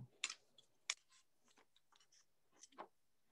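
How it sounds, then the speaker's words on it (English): Metal cutters snip a metal blank for a hand-stamped textured heart ornament: two sharp, close snips, followed by faint handling ticks and rustles. "Come in with my cutters."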